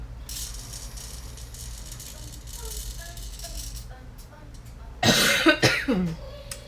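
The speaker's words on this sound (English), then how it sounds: "I keep getting that tickle in my throat, and then I cough." After some quiet rattling and faint talk, a person gives a short burst of harsh coughs close to the microphone.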